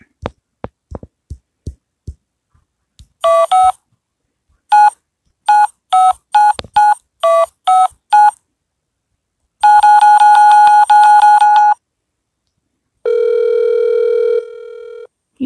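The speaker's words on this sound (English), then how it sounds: "Can't even put in a whole phone number." Telephone keypad dialing: a series of short touch-tone beeps in quick bursts, then a longer held tone, and finally a steady dial tone, all loud and clear with no talking.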